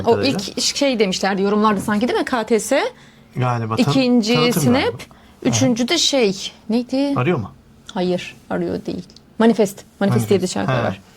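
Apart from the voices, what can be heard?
No everyday noise stands out behind the speech.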